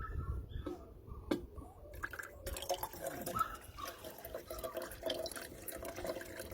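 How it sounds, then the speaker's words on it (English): Rinse water from silver refining is poured out into a container, giving faint splashing and trickling with scattered drips, quiet and close. "we're ready to pour out the rinse water"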